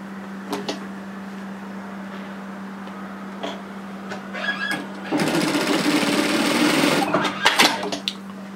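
A low steady hum sits under quiet handling sounds until a sewing machine runs a single close, loud burst of about two seconds along a hoodie seam, followed by a few knocks.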